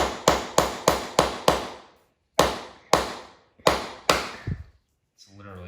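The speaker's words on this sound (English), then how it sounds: "It's literally driving the screwdriver into it." A screwdriver is hammered into clay: five rapid sharp metallic blows, a pause, then four more spaced strikes, loud and close, each ringing briefly, with a short voice at the end.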